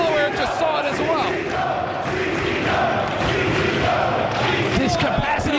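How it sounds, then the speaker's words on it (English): A capacity wrestling arena crowd roars and cheers on its feet, a dense, loud, sustained din with excited shouts and bursts rising throughout, while an announcer's voice talks over it. "This capacity crowd on their feet."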